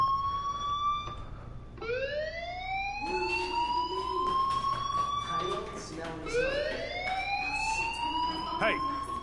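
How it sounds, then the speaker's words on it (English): A school fire alarm in the game Life is Strange wails in rising, looping sweeps, loud and continuous, while a voice speaks over it. "Hey, do you hear that fire alarm?"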